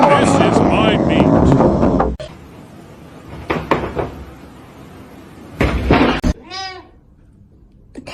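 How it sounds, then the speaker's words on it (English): A cat makes odd, strained vocal sounds, including a short warbling, wavering cry near the end, after a stretch of loud talking and amid scattered knocks and thumps. "The cat is broken."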